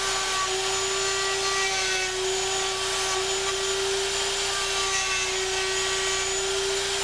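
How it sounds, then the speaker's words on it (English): Router-based tenoning machine cutting tenons in wooden chair slats, a steady high-pitched motor whine with a continuous cutting hiss at constant loudness, no talk. "a special tenoning machine that uses a router to do the cutting"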